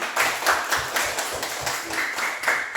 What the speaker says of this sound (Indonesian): Tepuk tangan dulu buat Arlan.